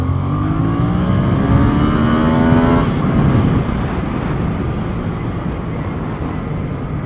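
A Yamaha FZ-07 motorcycle revs with rising harmonic whine, then downshifts and pulls hard into a loud, rough roar mixed with wind rush, steady and close.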